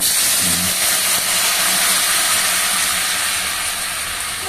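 Loud, steady hissing and sizzling as hot water hits a hot frying pan of fried potatoes, continuing without pause from start to finish.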